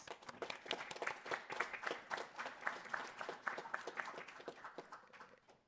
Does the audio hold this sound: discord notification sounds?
no